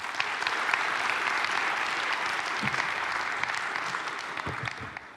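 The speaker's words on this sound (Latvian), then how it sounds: "Sagaidām ar aplausiem." A lecture audience on Latvia's road to NATO at RSU breaks into sustained, even applause to welcome a speaker, a dense steady wash of clapping from a full room with no voices over it.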